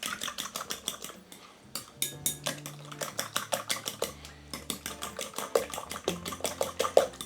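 Utensil scraping and clinking in a bowl as potatoes are mixed into beaten egg for a white and sweet potato frittata, a steady run of quick close taps and scrapes, no talking.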